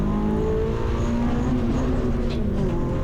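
Renault race car at a Snetterton trackday championship round, third on the road at a safety car restart, engine droning steadily and loud throughout with a sustained tonal whine as it builds speed.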